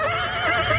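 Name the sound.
horse neighing, audio drama sound effect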